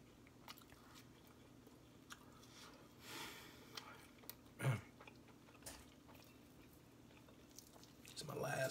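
Someone bites and chews crunchy fried chicken skin close to the microphone, with soft irregular crunches, one louder bite in the middle, and light speech around them.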